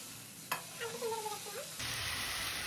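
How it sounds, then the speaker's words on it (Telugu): After a sharp clack and some brief clatter, millet dosa batter of soaked millets, urad dal and sago hits a hot pan and breaks into a steady, bright hiss of sizzling. "ఈరోజు సిరిధాన్యాల దోశ పోస్తున్నాను"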